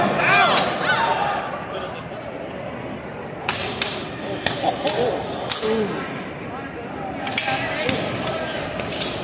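Heavy steel weapons of about 3.5 pounds clash in full-force armored combat at a convention fan event, with repeated sharp metallic whacks and thuds amid crowd noise and an announcer talking.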